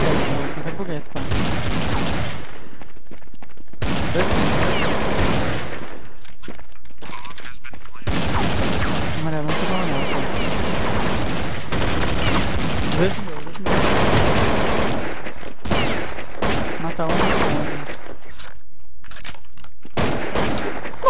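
Bursts of rapid gunfire from Counter-Strike 1.6, loud and close, coming in repeated volleys separated by short gaps, with a voice talking in places between the shots.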